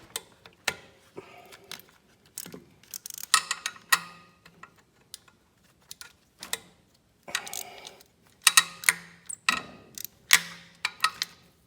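A ratchet fitted with a 10mm deep socket loosens a glow plug on a Kubota ZD21 mower, giving close, irregular bursts of sharp clicking, some quick runs of ticks and some single clicks, with brief pauses between.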